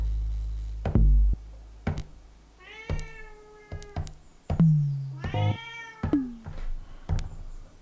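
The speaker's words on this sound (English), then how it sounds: "The sound you hear is the cat," A cat meows several times with rising, drawn-out calls, mixed with sharp percussive Elektron Rytm drum-machine hits and tones, fairly close and clear.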